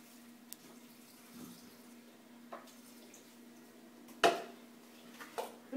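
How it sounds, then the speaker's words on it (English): Water is poured from a cup into a blender holding cereal, giving a quiet, steady trickle and splash with a few soft knocks, heard alone without talk. "Now, we're going to go pour in some of this water."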